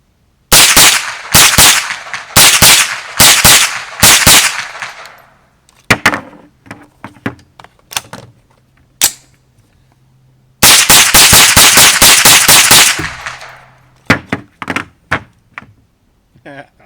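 A Tippmann Arms M4-Elite fluted .22 AR-15 rifle fires: two rapid strings of sharp, loud cracks, then slower single shots spaced a second or so apart, with brief quiet gaps between groups.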